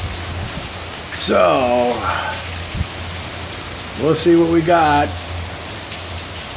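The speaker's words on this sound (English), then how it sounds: "Well, we're in a rainstorm, everybody." Steady rainstorm pouring down outdoors, a dense even hiss throughout, while someone speaks briefly twice over the rain.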